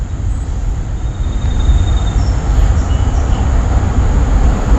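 A train rolls by close and loud, its steady heavy rumble of railcars and wheels filling the whole stretch with a faint high wheel squeal running over it.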